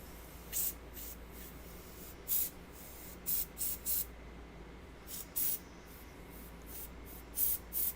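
Short, separate hissing bursts from an airbrush spraying paint onto a miniature figure, about a dozen quick presses spaced irregularly with quiet gaps between, close and soft.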